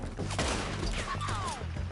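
Gunfire in the Western shootout of Red Dead Redemption 2, a rattling fusillade of several shots mixed with impacts and a whizzing sound, fairly quiet and somewhat distant, with faint shouting beneath.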